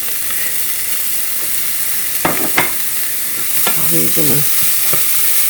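Cooked hamburger, peppers and onions are stirred in a frying pan over a constant sizzle, with several distinct scrapes and clinks of the utensil against the pan; a few words are spoken briefly.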